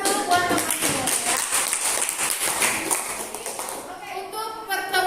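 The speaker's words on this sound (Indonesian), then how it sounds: "kasih tepuk tangan dulu buat teman-teman ya" Students in a geography classroom clap for their classmates, a lively burst of hand claps mixed with children's voices and talk, tapering off as the teacher's voice comes through near the end.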